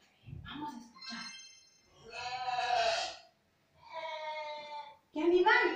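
A sheep bleats several times in quick succession, the quavering calls separated by short silences and ending on a louder, sharper bleat, played as an animal-sound listening game for children.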